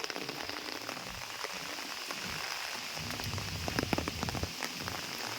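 Steady rain pattering on a surface in Tagaytay, Philippines, a dense even hiss with scattered louder drops splashing nearby.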